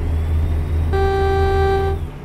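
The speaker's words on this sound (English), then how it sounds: "Air horn." A truck's air horn in the American Truck Simulator driving game blasts one steady, loud tone for about a second over the constant low drone of the engine.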